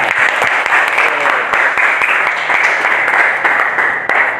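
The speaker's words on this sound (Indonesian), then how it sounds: "Tepuk tangan buat kita semua." Students in a high school classroom applaud together in a continuous, lively burst of clapping that runs steadily for several seconds, close and fairly loud, with no voices standing out.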